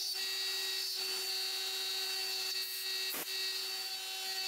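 A Genmitsu 3020-Pro Ultra desktop CNC mills aluminum with a constant high-pitched spindle whine and steady cutting hiss, a brief scraping chatter near the end, and no voices.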